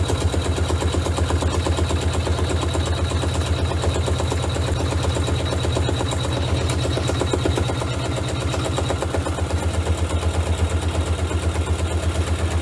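A sewing machine runs continuously, its needle mechanism producing a fast, even mechanical chatter and hum, close and loud with no talking.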